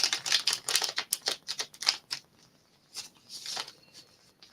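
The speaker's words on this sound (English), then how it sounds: "It's my last shuffle for the tarot." Tarot cards are shuffled by hand in a rapid burst of crisp riffling and flicking, close and soft, then a few slower slides as the shuffle ends, with no talking.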